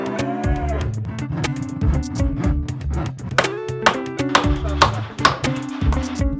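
Dairy cattle mooing in a barn bedded with wood shavings. Loud, close lowing calls repeat one after another, with some overlapping and other barn noises between them.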